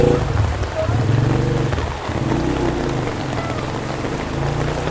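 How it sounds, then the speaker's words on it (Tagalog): Heavy rain pours down steadily and loudly on a construction site in Kalinga, a dense continuous wash that holds through the whole stretch, with low rumbling underneath. "Grabe, ang lakas ng ulan."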